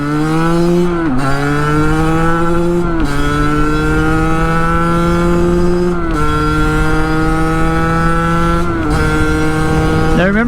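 A Sherco 50 SM motorcycle with a sport pipe screams as it accelerates on map 1, its high revs climbing through several gear shifts with short dips between, loud and close throughout.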